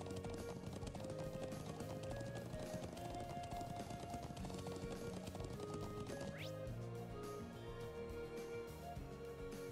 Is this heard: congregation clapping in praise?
no